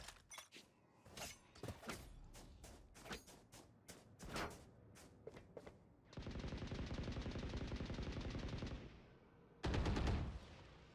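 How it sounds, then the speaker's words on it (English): Rapid automatic gunfire in a competitive esports shooter match, fired blindly through a smoke cloud: scattered single shots and clatter first, then a long sustained burst and a final loud volley, fairly close. "Firing through smoke now, hoping to get something"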